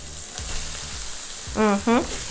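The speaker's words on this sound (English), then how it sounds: "what we're gonna do as of this point is we are gonna add our rice to the mixture" Washed, drained rice is stirred into sizzling onions and aromatics in a pot, giving a steady fry hiss with soft scraping strokes and two brief squeaky scrapes near the end.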